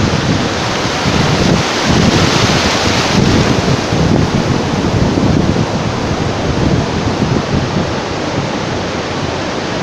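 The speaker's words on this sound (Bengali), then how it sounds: "বিরতিহীন ঢেউ অবিরাম অবিরাম চলছে চলছে, মনে হচ্ছে ঢেউ বেড়েই চলছে বেড়েই চলছে।" Sea waves at Cox's Bazar beach roar in a steady, dense wash of surf that never lets up, with wind buffeting the microphone throughout.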